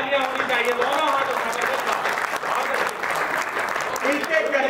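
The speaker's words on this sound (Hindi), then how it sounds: "भाई जोरदार तालियां होनी चाहिए दोनों हाथ" Loud, continuous audience applause at the Jashn e Poetry event for poet Abhay Nirbheek, with a voice audible over the clapping.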